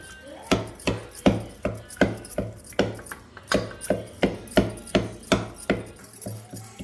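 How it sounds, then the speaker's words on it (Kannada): Cooked tomatoes being mashed for tomato rasam, about a dozen regular thudding strikes of a masher against the pot bottom, close and steady in rhythm, with no talking. "ಇದೇ ಇದರಲ್ಲಿ ಚೆಂದಾಗಿ ಸ್ಮ್ಯಾಶ್ ಮಾಡ್ಕೊಂಬಿಡೋಣ."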